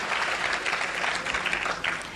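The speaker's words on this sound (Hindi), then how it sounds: "जरा एक बार जोरदार तालियों से इसका स्वागत करें, इस पहल का।" A seated audience at a police district event in Moradabad bursts into strong, dense clapping that stays steady and full throughout the short burst.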